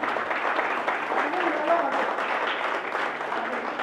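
Audience applause at an event honouring an infertility specialist and her three daughters, a dense wash of clapping held steadily for a few seconds, with a faint voice and a tone sounding underneath.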